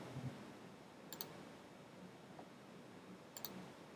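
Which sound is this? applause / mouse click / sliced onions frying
mouse click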